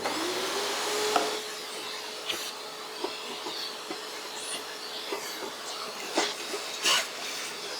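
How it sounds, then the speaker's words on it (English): A vacuum cleaner hums steadily while cleaning the back of a Hottop KN-8828B-2K coffee roaster, its even drone broken by scattered knocks and scraping bumps as the nozzle moves along the machine. "take your vacuum and clean the back of your roaster"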